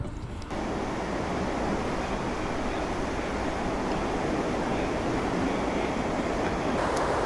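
Water surges steadily through a canal lock on the Trent Severn Waterway, a loud, constant roaring rush that fills the whole span with no break.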